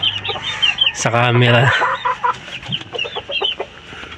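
Hens cluck in short bursts near a single-mating pen of chickens, with one long loud squawk and scattered softer clucks, while someone talks quietly in the background.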